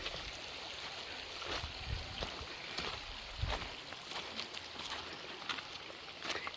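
A river flows steadily with a soft, continuous wash of water and occasional low bumps and gurgles, moderately quiet and close, with no talk over it.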